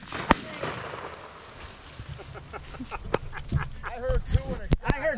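Outdoors during pheasant hunting, sharp distant shotgun reports pop several times among people talking and rustling, each bang brief and punchy over a low background.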